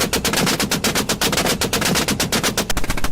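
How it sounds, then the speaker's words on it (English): Rapid gunfire cracks across an open field during a wild boar hunt, a loud, close burst of dozens of shots fired in quick succession, nearly continuous like automatic fire, with no talk. "Gunshots thundered through the open field."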